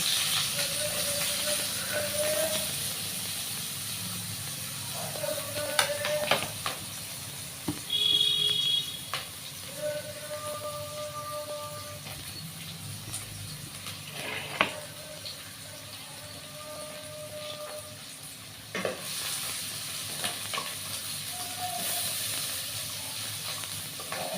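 Chopped onion frying in hot oil gives a steady, moderate hiss and sizzle throughout, with occasional brief tonal beeps and clinks over it.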